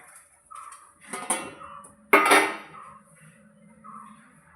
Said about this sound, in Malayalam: ഒരു ഇഡ്ഡലി പാത്രം അടുപ്പത്ത് വയ്ക്കാം